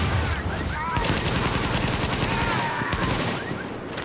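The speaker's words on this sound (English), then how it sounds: "I love those flashbangs, man." Flashbang blasts and gunfire in The Division, a multiplayer shooter with NYPD policing the streets, as a loud, dense barrage of bangs and rapid shots fills the whole stretch without a break.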